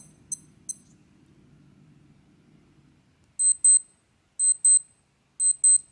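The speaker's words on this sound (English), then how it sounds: "Hopefully you can appreciate the real one is a louder alarm, but it's actually the same pitch." A genuine Casio G-Shock GA-700 wristwatch alarm sounds three loud pairs of sharp, high-pitched beeps in a steady rhythm, following a stretch of quiet low hum with two faint clicks.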